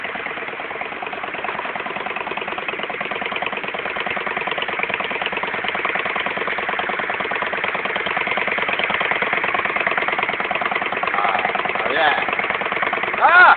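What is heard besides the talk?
custom motorcycle engine idling, valves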